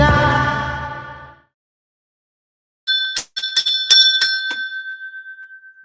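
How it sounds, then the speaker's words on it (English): A bell rings in a few bright, struck tones after a brief silence, each one decaying quickly while the ringing overlaps, loud and close, with no voices. "The bell sounded crooked."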